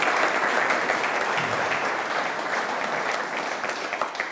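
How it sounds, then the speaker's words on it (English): Audience applause for the speakers at an international facade seminar, a continuous, even wash of many hands clapping at steady loudness from start to finish. "Let's give one big round of applause for their time today."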